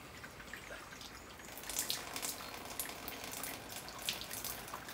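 Water trickling and dripping quietly through a garden self-watering system, a faint, continuous flow with occasional small splashes, fairly distant and soft.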